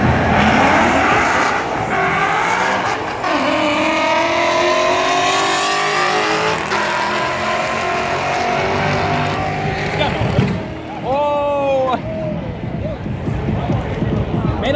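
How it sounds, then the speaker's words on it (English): Two Ford Mustangs at a drag race launch and accelerate hard, loud engine roar rising through gears with tire noise, heard from the trackside crowd with people talking and shouting throughout. "Made a lot of noise, didn't go that fast."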